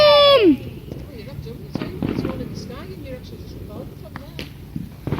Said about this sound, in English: one more firework before this goes off. One big firework!